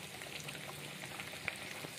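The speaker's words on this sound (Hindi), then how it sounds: "एक बार में 3 कबाब फ्राई कर रही हूँ।" Three nargis kebabs frying together in a pan over a medium flame give off a faint, steady sizzle of hot oil, with a couple of small pops near the end.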